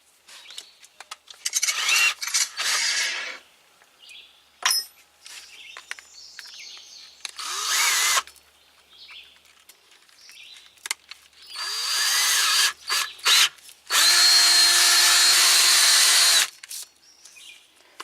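A power drill, its bit wrapped in paper, bores out a wheel hub stud hole in short bursts: loud whining runs of varying length separated by pauses, with clicks and handling noise between, ending in one long sustained spin.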